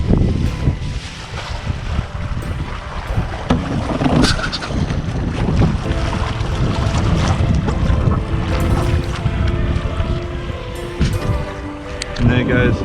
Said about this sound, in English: And there goes the yacht.